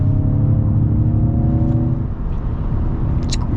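A 2024 Ford F-150 Lightning electric pickup accelerating hard from inside the cab, with a loud, steady whirring drone and road rumble that eases slightly partway through, no talking.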